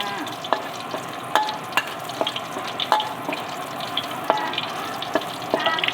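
Garlic is stir-fried in a pan while cooking cabbage with fish sauce, giving a continuous close sizzle broken by regular scraping clicks of a utensil stirring.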